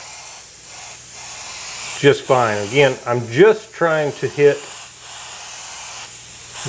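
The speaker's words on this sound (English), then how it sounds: "So I'm going to spray it with my Iwata HPCS because this airbrush should spray this coarse flake" An Iwata HPCS airbrush sprays coarse flake metallic paint onto a panel, a soft steady hiss with short bursts heard faintly beneath someone talking.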